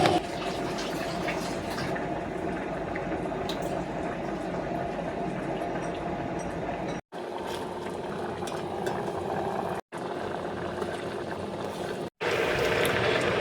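Water poured into a container to soak an ingredient used for cooking mung beans, a steady close gushing and bubbling fill broken by a few brief cuts.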